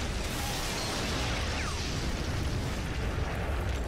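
An explosion tears apart a hive in the open-world action game Prototype, a loud, sustained rumbling blast with crackling debris and a brief whoosh, filling the whole span without letup.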